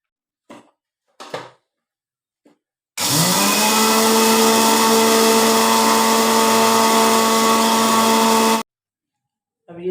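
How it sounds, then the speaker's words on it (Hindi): An electric grinder whirs at full power as it grinds pickle spices for achar gosht, a loud, steady drone of about six seconds. A few brief knocks come before it starts. "अब हम इन अचार मसालों को ग्राइंड करने लगे हैं।"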